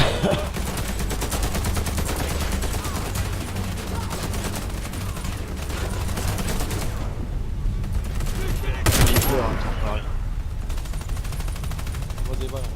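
Gunfire in a French-played video game that hits the player, dense bursts of shots and impacts running through the scene, with a voice talking over the continuous firing.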